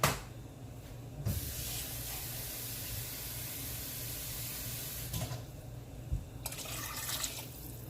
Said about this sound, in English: going to add some more water.